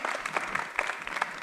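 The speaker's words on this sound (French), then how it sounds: "On peut encore l'applaudir" A studio audience at a French-language TV show applauds steadily, a dense wash of many hands clapping at close range with no pauses.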